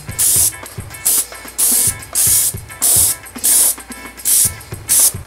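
An airbrush sprays paint onto a prop's arms and mask in short repeated hissing bursts, about nine evenly spaced blasts close to the microphone, each with a faint mechanical click beneath.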